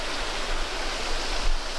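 A river flows near Eternal Flame Falls, a steady broadband rush of water, fairly loud and close, with no other sounds.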